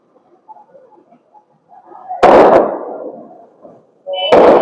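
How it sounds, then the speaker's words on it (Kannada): Firecrackers go off outside during Karthika month festivities: after faint scattered sounds, two sharp, loud bursts land a couple of seconds apart, the first trailing off in a fading echo. "ಏನೋ ಪಟಾಕಿ ಹೊಡಿತಾ ಇದಾರೆ."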